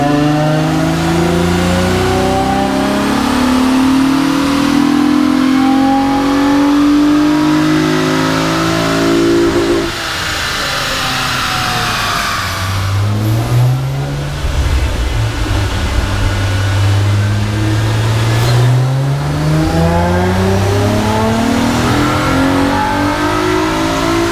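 A Honda J30A4 naturally aspirated car engine revs hard on a dyno, climbing steadily in pitch, drops briefly, then winds up again, loud and sustained throughout with no talking.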